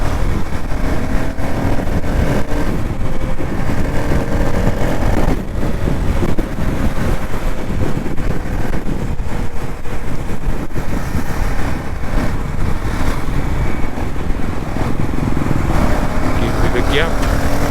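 A KTM Duke 390 motorcycle rides through city traffic, its engine droning steadily under heavy wind rush on the microphone, with shifting engine pitch and a voice talking over the noise.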